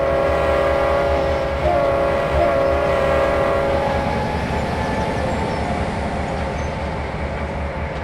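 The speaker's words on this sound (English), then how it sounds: "Make sure you blow the horn when you start the train moving or when approaching a level crossing." Diesel train in Trainz Simulator World Tour on Xbox Series X sounds a steady, loud horn chord that holds for about four seconds over a continuous low engine rumble, which carries on alone after the horn stops.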